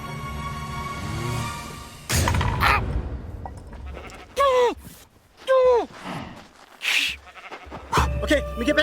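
Sheep in the video game Minecraft bleat several times in short, close, wavering cries, mixed with a person's voice, gasps and sighs.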